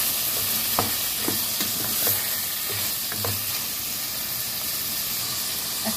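Shrimp sizzle steadily in a hot pan, a constant frying hiss broken by several soft scraping stirs and clinks of the spatula, with no voices over it.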